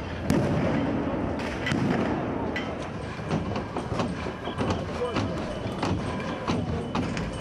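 Stun grenades and bursts going off amid riot clashes between protesters and police in Kyiv, with repeated sharp bangs and thuds over a constant roar of crowd noise and commotion.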